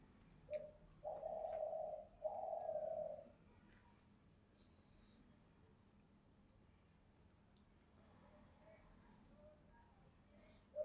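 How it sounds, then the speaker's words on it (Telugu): A pet bird gives loud, sustained calls, two long shrill bursts close by near the start, then quieter faint chirps in a calm indoor room. "బర్డ్ భలే అరుస్తుంది"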